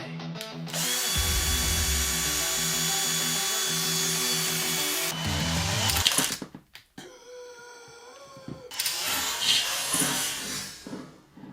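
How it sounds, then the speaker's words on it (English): A power drill whirs loudly at high speed for several seconds, drilling a hole in a mini PC build, stops, then scrapes and grinds in shorter bursts close by. "I think I need to drill a hole."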